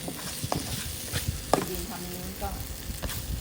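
Curry paste fries in a hot pan with snakehead fish and crispy pork, giving a steady close sizzle and spatter punctuated by the clack of a spatula stirring, while someone talks quietly over it.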